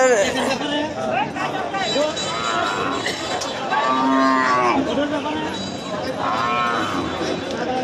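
Cattle low repeatedly at a large cattle market in Hanskhali ahead of Eid al-Adha, several drawn-out moos rising over a busy crowd hubbub, with people talking nearby.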